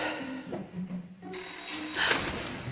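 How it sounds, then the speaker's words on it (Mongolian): A telephone rings indoors, its bright electronic tone coming in partway through after a few moments of quieter room sound, moderately loud and fairly close. "Утас."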